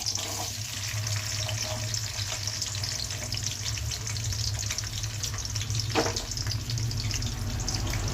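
Thinly sliced onions frying in a pan for boti curry, a steady loud sizzle with occasional stirring scrapes and a low background hum, heard close without talk.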